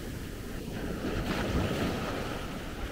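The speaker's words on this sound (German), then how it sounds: "Da kommt immer noch Wasser über den letzten Wellenkamm und ist also noch nicht ganz Hochwasser." Sea waves at high tide wash over the last wave crest on a beach at Maspalomas, Gran Canaria, giving a steady, broad surf roar with a slight swell midway and wind on the microphone.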